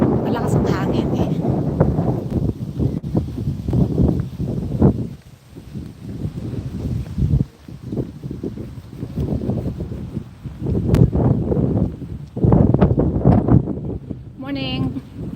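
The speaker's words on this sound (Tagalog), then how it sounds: "Malakas ang hangin eh." Strong wind buffets the microphone during a walk in a park, a loud low rumble that rises and falls in gusts under a person talking.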